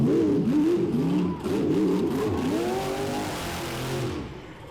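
A monster truck engine at a motorsports park event revs hard, with wavering pitch that climbs and dips as the truck swings into a donut, steady and fairly close throughout.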